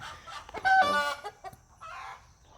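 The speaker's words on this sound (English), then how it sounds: "roosters don't only crow in the morning. They crow all day long." Hens cluck close by while a rooster lets out a crow, with scattered farmyard clucking trailing off afterward.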